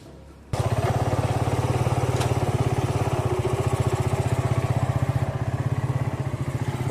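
A custom motorcycle built on a C70 frame with a Suzuki Satria FU engine starts up and runs steadily near at a fast, even idle-like rhythm for several seconds, alone without talk.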